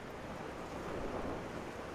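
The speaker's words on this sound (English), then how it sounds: "See, this is too windy to be on the side of the house on the ladder and too cold." Strong, cold wind gusts outdoors beside a house, a rough, rushing roar with buffeting against the microphone that swells slightly mid-way, fairly quiet overall and with no talking.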